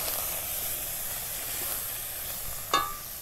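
Cumin paste hitting hot oil in a pan for masoor dal with bottle gourd, a steady bright sizzling hiss throughout, with one short metallic clink near the end.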